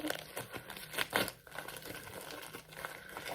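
Close, quiet crinkling of thin plastic, with irregular rustles and crackles continuing throughout.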